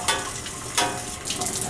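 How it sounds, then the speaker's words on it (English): Surgical instruments rinsed under running water, a loud close wash of splashing flow with two brief bursts of stronger splashing and clatter. "And rinsing some more."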